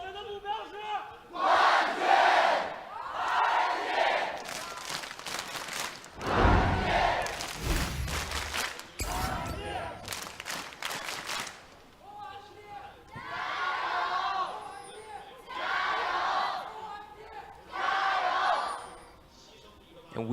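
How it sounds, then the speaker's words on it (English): RNG fans in an LPL esports arena crowd in Beijing shout loud, rhythmic chant bursts in unison, with a commentator's voice talking between the rises. "we just heard from the RNG crowd"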